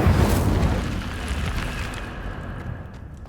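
A loud whooshing, roaring burst of flame from the Incendio fire spell in Hogwarts Legacy, strongest at the start and slowly fading over a few seconds, with no voices.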